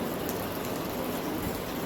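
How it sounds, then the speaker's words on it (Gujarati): An evening rain shower falls steadily in a dense, even hiss, with no pauses or other sounds. "અને ભાઈ વરસાદી છે ને અટાણે બધી વરાળ કાઢી નાખી"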